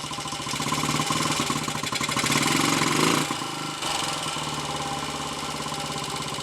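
A Royal Enfield 250 five-speed motorcycle engine runs in third gear with a gearbox problem, a continuous rough, pulsing mechanical drone that swells around the middle, briefly dips, then settles back to a steady run.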